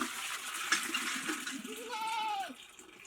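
A goat bleats once in a wavering, drawn-out call lasting about a second, fairly close, over a low background hiss with no talking.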